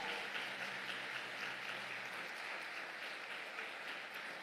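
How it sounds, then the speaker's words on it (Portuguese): A church congregation claps during worship, a dense steady wash of applause holding evenly for a few seconds with no voices over it. "Então dê uma salva de palmas a Ele,"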